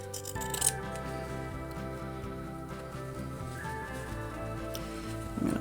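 Scissors snip through a fabric bookmark with a few sharp crisp cuts at the start and end over a steady background hum, close up.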